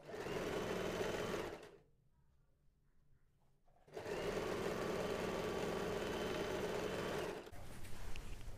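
A sewing machine runs in two bursts while stitching the shoulder seam of a collar, a close, steady mechanical whir broken by a brief pause.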